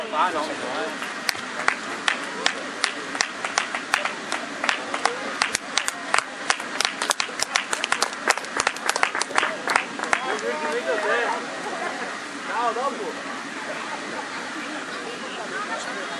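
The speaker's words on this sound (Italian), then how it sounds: "applausi anche per lui" Spectators applauding as a runner crosses the finish line at a road race in Galliera Veneta, a sustained patter of clapping from a modest crowd with an announcer talking over it.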